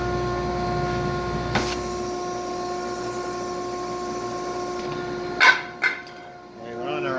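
A workshop dust collection system drones steadily with a strong tonal hum, broken by a couple of sharp knocks as a vent is opened before the sound drops away.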